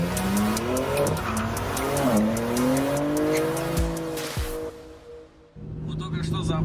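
A car pulls away with its tires squealing loudly and the engine revving up close, the squeal sliding upward and then cutting off abruptly.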